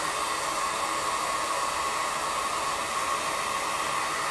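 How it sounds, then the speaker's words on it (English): A blow dryer runs steadily at close range, drying fabric paint on a freshly painted tee shirt; its loud, even airy roar holds without a break from start to finish. "So you can use a blow dryer or let it sit overnight"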